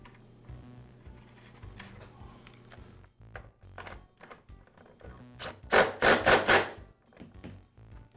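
A nut is threaded onto the axle to secure a replacement wheel on a Husqvarna lawn mower, giving close, soft scraping and ticking of metal with a louder burst of rapid ratcheting clicks near the end.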